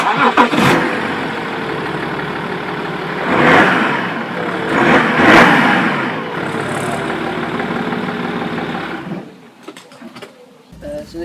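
A BMW E90 335d M-Sport diesel engine cranks and fires, then gives a couple of loud revving surges before settling into a steady, close idle that fades at the end. A voice is heard briefly.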